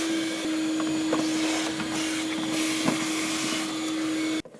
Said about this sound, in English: we're going to use a vacuum and clean it all up